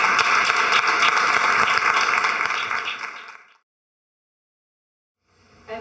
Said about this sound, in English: can we have a massive round of applause for Ben and James?